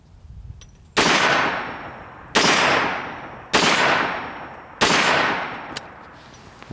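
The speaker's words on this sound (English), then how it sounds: "I'm going to go ahead and send a couple more rounds on the steel." Four loud 9mm pistol shots fired at steel targets at long range, each a sharp crack followed by a long ringing decay, spaced about a second apart with no talking.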